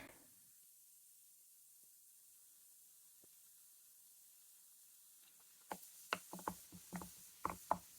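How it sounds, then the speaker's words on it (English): Goji berry vinegar mixture fizzing as it ferments, near silent at first, then a burst of sharp crackling pops and hisses over the last couple of seconds, close and faint. "Can you hear that? It's like fizzing up."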